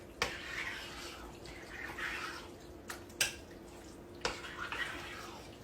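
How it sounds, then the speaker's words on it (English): Juice drains off canned tomatoes in a soft trickle with a few sharp drips and taps against the can and bowl, faint and close by. "Just drain this part of the juice off of your tomatoes."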